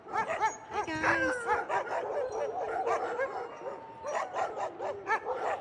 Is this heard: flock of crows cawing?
no